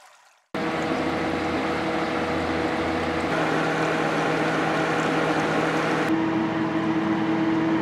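The fan of a homemade two-stage indirect evaporative air cooler, holding four gallons of water, runs just below medium speed with a steady, loud whooshing drone that starts abruptly and shifts slightly in tone partway through.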